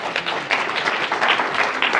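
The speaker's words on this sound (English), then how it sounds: "Please give this gentleman a round of applause." Seminar audience at a hotel in Sandton breaking into steady applause, many hands clapping in a dense, continuous patter that stays loud and even for its whole length, with no voices over it.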